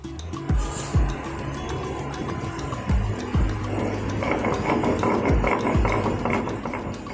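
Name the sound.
grinding coriander and mint leaves on a stone slab (shil)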